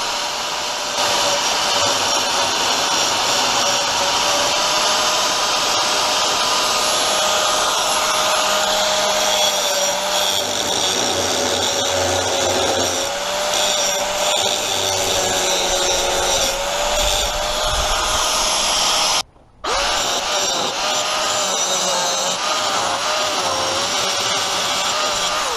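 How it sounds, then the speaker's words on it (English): An angle grinder shapes steel on a gate where a latch pin will be welded, in an outdoor repair away from the workshop. The abrasive whine is loud, steady and close, running nearly unbroken with one brief cut-out. "I then use the grinder to shape the area where the latch pin will be welded."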